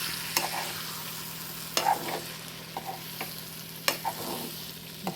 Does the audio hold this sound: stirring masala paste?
yes